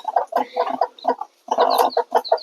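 Frightened chickens cluck and squawk close by in a run of quick, agitated calls, with a brief pause partway through.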